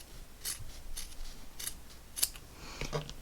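Scissors trimming excess fabric and batting from a sewn seam, a series of crisp close snips at irregular intervals, about six cuts over a few seconds, quiet and alone with no talk.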